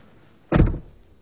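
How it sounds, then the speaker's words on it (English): The rear door of a Maybach 57S pulls itself shut automatically, a single short muffled thud with a brief mechanical settle, close and fairly loud in an otherwise quiet moment. "Ooh, the door closes itself."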